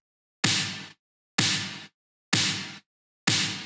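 Four evenly spaced snare hits, each with a burst of bright reverb that cuts off abruptly, leaving silence between strikes.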